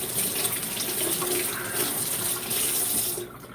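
Tap water runs steadily into a sink while hands are washed after cracking eggs in a home kitchen, a continuous close splashing rush that cuts off near the end.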